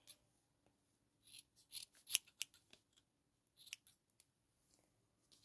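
Scissors snip a piece off a doll's braids, a series of crisp close cuts in uneven clusters, quiet between strokes, with no voices.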